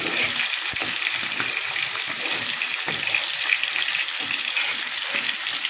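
Puti fish frying in a pan, with a steady, close hiss and crackle of hot oil running throughout, dotted with brief pops and sputters.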